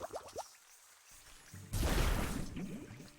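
A jar being filled with water in the video game Wytchwood: a quiet plop and drip, then a louder watery burst of pouring and splashing lasting about a second and a half, close and alone without talk.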